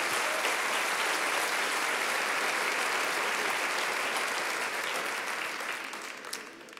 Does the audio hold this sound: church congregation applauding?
yes